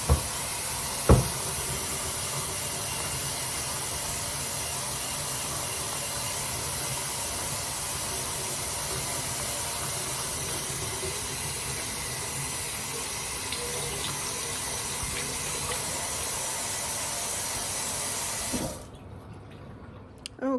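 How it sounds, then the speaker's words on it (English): A kitchen tap running steadily while hands are washed beneath it, a close, even rush of water that goes on for most of the stretch before it is shut off near the end. "the first thing we're gonna do is wash our hands."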